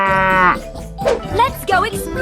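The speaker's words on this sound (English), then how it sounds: "Cow." Cows moo in a 3D animal video game, several short, bright, tonal calls in quick succession, loud and close, mixed with playful game sounds.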